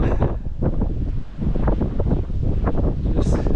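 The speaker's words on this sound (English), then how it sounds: "bit breezy, windy, just a tad windy." Strong wind buffets the microphone on the summit of Buck Pike in the Coniston fells, a constant roaring rush with gusty swells throughout.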